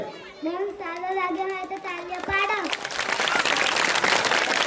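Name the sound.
children clapping after a dance performance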